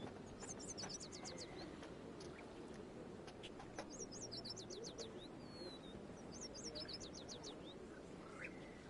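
Several birds in Mass Effect chirp and trill in quick repeated bursts over a constant low hiss, fairly faint, with no voices.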